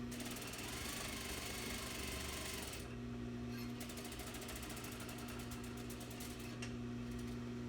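A sewing machine backstitching and then running a 5/8 inch seam, its needle chattering rapidly and steadily near the mic, a fainter whir underneath.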